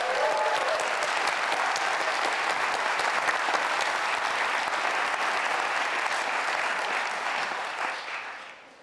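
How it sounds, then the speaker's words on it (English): Sustained audience applause at the TechChill 2020 opening, a dense, even wash of many hands clapping for about eight seconds before tapering off at the end. "And I think that also we are in need of a bigger applause for this."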